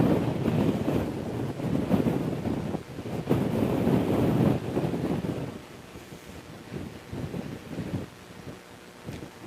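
Strong wind buffeting the microphone at Christchurch Airport, heavy roaring gusts that swell loud and then ease into lighter rumbling, ending with faint intermittent blasts.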